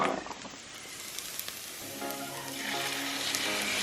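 Beaten egg mixture with Parmesan and black pepper hits a hot sauté pan, a soft steady sizzle that swells and brightens partway through as the liquid spreads, close and alone.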